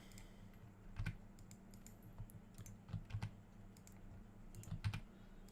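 Keys clatter on a computer keyboard in quiet bursts of quick taps, a few short clusters spaced apart over a faint background hum, close and soft.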